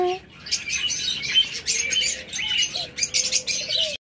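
Pet lovebirds and cockatiels chirp and tweet in quick, busy bursts, close and fairly loud, with a few longer whistled calls weaving through.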